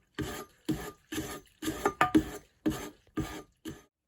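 Knife blade stroked along a sharpening stone to raise a burr, a rhythmic series of eight or nine short rasping strokes, evenly spaced and close, with no talk.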